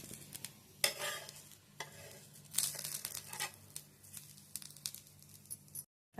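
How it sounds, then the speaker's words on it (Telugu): A coconut dosa cooks in a pan on a low flame with a soft, steady sizzle, broken by a few brief scraping and crackling bursts. It stays quiet and close, with no talking, and stops abruptly at the end. "ఇలా సిమ్లో ఉంచుకొని అట్టుని ఇలా కాల్చుకోవాలి"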